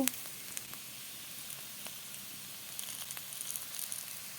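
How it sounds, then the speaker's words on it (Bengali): Potatoes and green beans frying uncovered in a pan for a spiced masala, a steady soft sizzle with faint crackles and pops, close and continuous without talk. "আলু বিনস ভাজা ভাজা করে নেব।"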